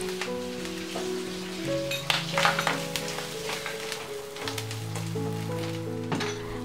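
Chopped green chilies sizzle and fry in a hot pan, a steady crackling hiss with a few stirring clatters beneath background music.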